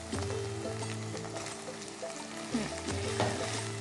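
Tender mutton chops sizzle and crackle in a hot pan, a steady close frying hiss with occasional louder spits and scraping as pieces settle in, no talking.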